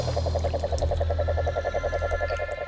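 A large, highly poisonous toad in Australia gives a fast, pulsing croak, rapid even trills repeated steadily for a few seconds, close and clear over low background noise.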